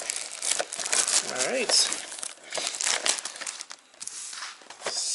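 Foil wrappers of 2021 Topps Holiday baseball card packs being torn open: close, continuous crinkling and crackling with bursts of tearing, while someone speaks briefly.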